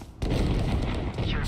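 A grenade detonating in the shooter game Valorant: a sudden loud, dense boom that starts after a brief quieter moment and fills the rest of the clip with a sustained roar and rumble, with voices faintly mixed in.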